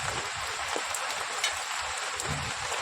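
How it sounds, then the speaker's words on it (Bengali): Steady rain hisses continuously across the whole stretch, a dense, even wash of falling drops with no voices. "1 ঘন্টার বেশি বসে আছে, বৃষ্টি কমছেই না।"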